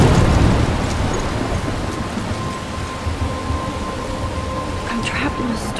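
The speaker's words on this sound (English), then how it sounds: "I'm trapped in a storm?" Steady heavy rain and a low rumbling thunderstorm in the video game Life Is Strange, loud at first and then easing to a continuous wash with no voices.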